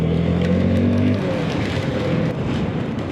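A CVT scooter's engine hums steadily and loudly at close range while riding through Exeter city streets, a low droning tone rising slightly in pitch early on under continuous wind and road rush.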